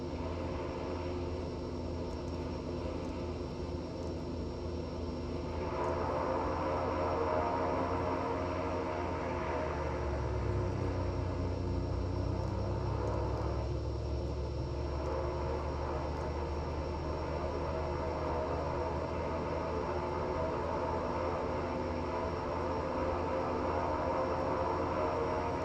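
A Carenado PC-12 turboprop in a flight simulator, taxiing down the runway with a steady engine drone and a slight swell partway through.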